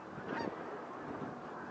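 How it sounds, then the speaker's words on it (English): Faint honking of geese in the distance, a few short calls over a quiet outdoor background. "Let's see the geese"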